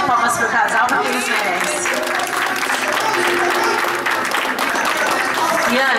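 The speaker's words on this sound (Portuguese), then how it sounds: "Família, uma salva de palmas pro casal" A family applauds a couple at an evangelical cotton wedding anniversary tribute in Guarulhos, with steady, dense clapping running throughout under a busy room.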